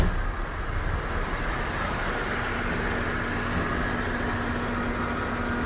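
A car engine idles steadily during an air conditioning pressure check, a continuous low rumble with a faint constant hum, close and even throughout, without voices.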